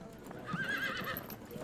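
Horse hooves clip-clopping with a brief neigh in the video game Field of Glory 2, faint and short, a single whinny over soft hoofbeats.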